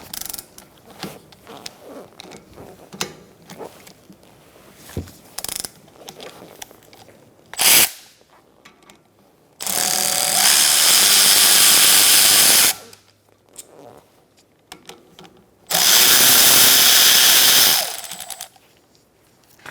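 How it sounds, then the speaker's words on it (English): Power tool spinning a 13mm socket to remove the rear brake caliper slide bolts on a 2012-2019 Fiat 500, with two loud sustained whirring bursts of about three seconds each after some earlier light clicks and handling noises, no talking. "Using a 13mm socket, we're going to take out these"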